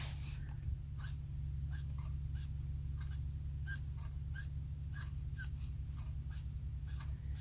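Copic alcohol markers shading on paper, a soft rhythmic scratch of the nib repeating about once a second under steady low background hum, close and faint.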